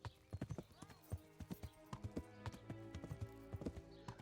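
Horse hooves clop at a steady trotting rhythm in the medieval video game Kingdom Come, the distinct hoofbeats close and clear over a soft constant background.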